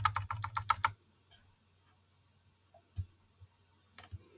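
Quick burst of keystrokes on a computer keyboard, a rapid run of close clicks at the start followed by a few scattered taps in a quiet room.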